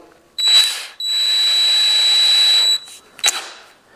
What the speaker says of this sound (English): This gets chucked into a drill.